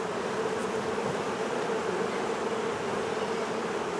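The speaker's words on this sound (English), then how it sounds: "these bees are really nice" Buckfast honeybees buzz continuously around hive combs as frames are pulled, a dense, close droning hum of many wings that stays steady throughout without speech.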